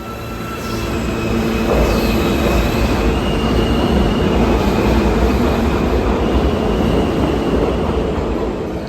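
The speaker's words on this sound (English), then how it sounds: "I took the subway to Penn Station" A New York City subway train runs toward Penn Station with a loud, continuous roar of wheels on the rails. High squeals ride over the rumble, and the noise stays steady and close the whole time.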